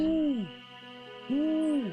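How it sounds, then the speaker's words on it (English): An owl in a Nancy Drew video game hoots twice, each a clear, resonant call that falls away at the end, separated by a pause over a faint, steady game soundtrack. "Oh, it's an owl."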